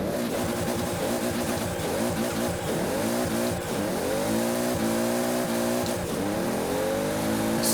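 A Toyota Supra MK3 A70 engine in Forza Horizon, floored on a dragway, roars loud and steady through rising, shifting harmonics across repeated gear changes, with a faint tire squeal and no voices.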